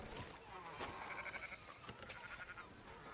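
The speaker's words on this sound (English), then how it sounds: "Fine sheep." Sheep bleat in a western video game set around a sheep farm, a few faint wavering calls under background game noise and quiet talk.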